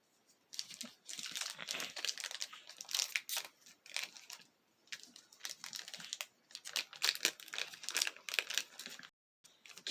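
Close, loud crinkling and tearing of foil wrapper as an Innistrad: Midnight Hunt draft booster pack is opened, coming in rapid irregular bursts with brief pauses and no talking.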